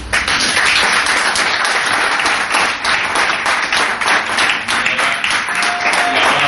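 Sustained applause from an audience at an evening tribute ceremony in Andalusia, dense steady clapping filling the whole stretch at high level without a break.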